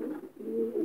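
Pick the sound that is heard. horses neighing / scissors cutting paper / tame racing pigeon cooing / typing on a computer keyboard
tame racing pigeon cooing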